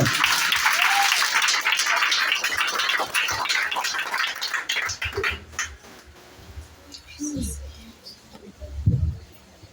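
A church congregation bursts into dense clapping that fills the room, then fades after about five seconds, leaving low speech and murmurs.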